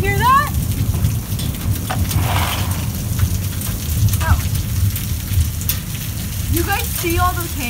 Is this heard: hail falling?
yes